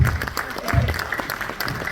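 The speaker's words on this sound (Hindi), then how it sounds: "इनके लिए तालियां हो जाएं।" An audience applauds at the trailer launch of the Atal Bihari Vajpayee biopic 'Main Atal Hoon', with steady clapping throughout and a voice faintly heard beneath it.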